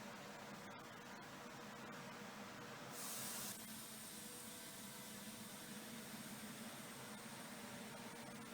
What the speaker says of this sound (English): I let most of the air out of the tyre, but I do like to leave a little bit in there